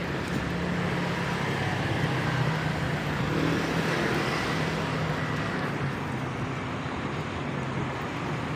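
Steady road traffic with cars passing on a busy city street, a continuous moderate roadway rumble without distinct individual pass-bys and no voices.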